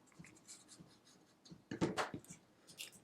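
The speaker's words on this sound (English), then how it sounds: "I'm just going to fold it, put some glue" Paper folded and glued by hand to make mini paper vases, heard as soft close crinkles and rubs with a sharper crease and rustle midway, quiet and without talk.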